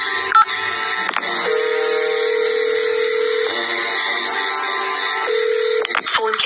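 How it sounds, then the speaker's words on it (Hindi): Mobile phone tones: a few short key beeps, then long steady tones that shift pitch, ending with more quick clicks and beeps. "अपने मोबाइल से किसी को फोन करने लग जाता है"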